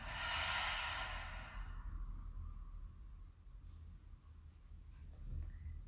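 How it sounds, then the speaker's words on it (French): A slow exhale through the mouth during a yoga breathing session, a soft breathy rush near the start fading into quiet room tone, with faint small movements afterward. "Et expire par la bouche."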